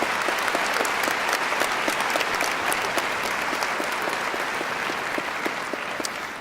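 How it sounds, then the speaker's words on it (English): A large crowd applauds the faculty at a 2014 community college graduation ceremony, with steady, dense clapping that carries on for over six seconds and slowly fades toward the end. "Let's give a big round of applause to the faculty of Front Range Community College, Larimer campus"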